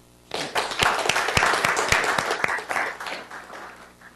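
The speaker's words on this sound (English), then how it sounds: "if we can just go ahead and give him a round of applause" A room of people at a university business competition introduction gives a round of applause, clapping starting abruptly, building to a full burst of sharp close claps, then thinning out over a few seconds.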